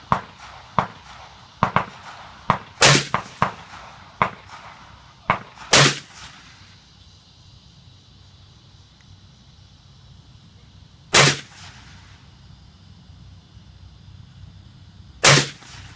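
Several sharp, loud rifle reports from a Keltec CMR30 in .22 WMR, fired at 25 yards, come as a quick irregular string early, then two more isolated cracks spaced seconds apart over a quiet outdoor background.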